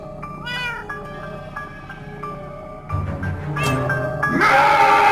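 A cat in Minecraft Story Mode meowing in a series of short, tonal meows, fairly close and clear, ending in a louder, more strained yowl over a game soundtrack.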